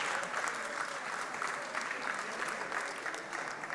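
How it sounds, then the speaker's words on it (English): Steady applause from the audience at a 2024 national elections town hall, a continuous wash of many hands clapping at moderate level, slightly distant. "A round of applause"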